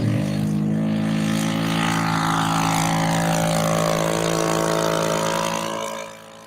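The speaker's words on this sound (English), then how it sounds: "This is him flying his Flare 1/4 scale tire moth, laser 184 stroke." A quarter-scale Flare Tiger Moth radio-controlled biplane powered by a Laser 184 four-stroke engine drones loudly overhead, its pitch sliding downward as it passes, then fading away.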